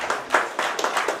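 Applause from a gathered crowd at a housing brochure launch ceremony, a short burst of scattered hand claps with uneven rhythm at moderate volume.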